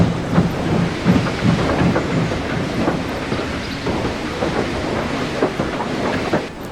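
A train rumbles into a large station, its wheels clattering over the rails in a steady rolling clickety-clack, loud and continuous, with no voices.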